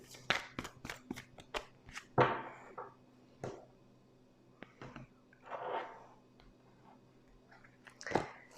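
Oracle cards being cut and shuffled in two at a tarot-style reading, producing several sharp papery riffles and flicks spread across the clip, with soft rustles and brief speech-like sounds between them.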